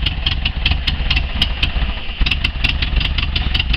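A 1976 VW Camper's 2000cc fuel-injected air-cooled engine runs close by with a rough, clattering idle and an irregular ticking rhythm throughout, with no voices.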